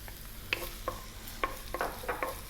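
Onion and garlic being stirred in a hot pan on just-above-medium heat, quiet sizzling broken by scattered scrapes and clicks of a utensil, close and fairly faint with no talking.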